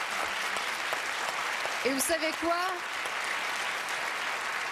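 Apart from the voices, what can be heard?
applause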